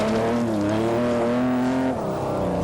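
An ageing Porsche Carrera rally car driving with a suspected differential fault, a loud, sustained engine drone that shifts pitch slightly partway through, close and unbroken.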